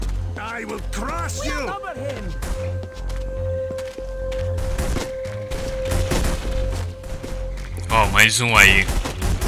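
Gunfire in The Punisher video game, short bursts of shots fired repeatedly over steady background game noise, with someone talking over much of it.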